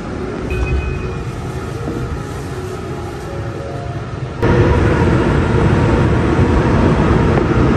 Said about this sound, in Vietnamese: Mình sẽ bắt một chuyến tàu nữa để về ga gần nhà mình nhé.